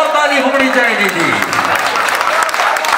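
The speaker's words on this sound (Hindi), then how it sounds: "इस मेले करे हमर जोरदार ताली होनी चाहिए थी" An audience at a Punjabi poetry gathering bursts into sustained, loud applause, the clapping continuing throughout with a voice speaking over it at the start.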